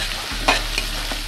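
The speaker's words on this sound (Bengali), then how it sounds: "এখানে আধা কাপ পরিমাণ মানে হাফ কাপ পরিমাণ পেঁয়াজ দিয়ে দিলাম।" Half a cup of onion fries in hot oil in a pot for beef haleem, giving a steady close sizzle broken by a few scraping stirs of a spoon.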